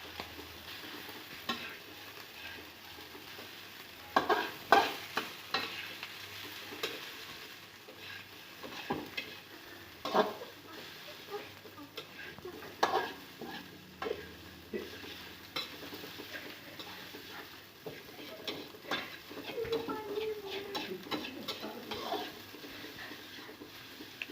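Soft sizzling with repeated scraping and clinks of a utensil stirring rice and scrambled egg around a frying pan, steady and close.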